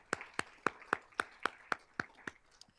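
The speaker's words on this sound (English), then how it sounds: "So let's give a round of applause for that effort." Audience clapping at an awards ceremony, arriving as about ten sharp, evenly spaced hand claps heard fairly close and clear, with no voices over them.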